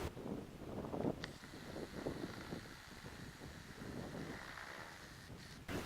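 Steady wind gusting across a lakeshore campsite near mountains, a continuous broadband rush with rumbling buffeting on the microphone throughout, no voices.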